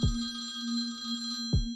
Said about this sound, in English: the phone starts ringing again. Ring, ring, ring, ring.